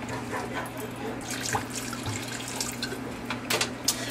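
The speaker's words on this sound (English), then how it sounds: "So red wine is going in, and that's going to make a beautiful, beautiful sauce for our braised ribs." Red wine poured into a pot for a braised short rib sauce makes a steady liquid trickle and splash, continuous and close, under a background hum.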